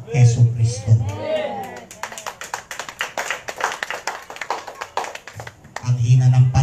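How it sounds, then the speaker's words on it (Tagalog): A church congregation claps in scattered, fairly light applause for a few seconds, framed by a voice speaking before and after. "Ang hina ng palakpak niyo sa Panginoon."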